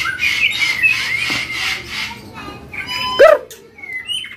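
A caged oriental magpie-robin, a murai batu, sings loudly and close in bright, shrill whistled phrases, with a sharp rising squawk near the end and softer chirps trailing after.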